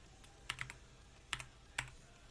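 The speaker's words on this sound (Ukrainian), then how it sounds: "через термінальчик пишемо команду" A computer keyboard is used to type a command in a Linux Mint terminal, with three small clusters of soft, close key clicks spread across about two seconds against a quiet background.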